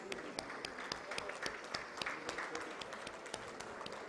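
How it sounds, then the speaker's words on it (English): Scattered, fairly distant clapping from a modest audience at a startup summit award ceremony, individual hand claps standing out sharply in an uneven, continuous patter. "Please give them a huge, huge round of applause."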